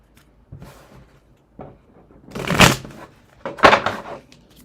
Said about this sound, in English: well, let's shuffle it up, right?